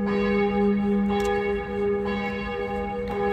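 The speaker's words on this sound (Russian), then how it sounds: "Ну, смотрите, сейчас колокольный звон." Church bells ring steadily from a small nearby church in Düsseldorf, near the Rhine, with sustained overlapping tones and periodic fresh strikes, loud and clear with no talking.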